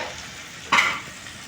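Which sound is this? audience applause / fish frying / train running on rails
fish frying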